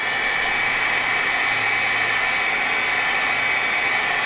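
A heat tool blows hot air onto the edges of a broken iPhone XS, producing a loud, continuous fan-and-air rush with a steady high whine, unbroken throughout and with no voices.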